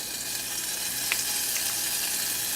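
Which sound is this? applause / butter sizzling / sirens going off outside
butter sizzling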